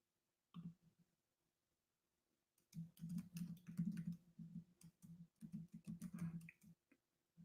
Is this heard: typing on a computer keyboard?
yes